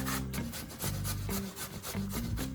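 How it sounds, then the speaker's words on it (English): Butternut squash is grated by hand, a steady back-and-forth rasping of firm flesh against the grater in rhythmic strokes, close and alone. "I grate 300 grams of it."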